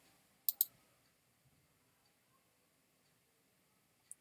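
Two quick computer clicks close together near the start and another at the end, quiet and close, with long near-silent stretches between.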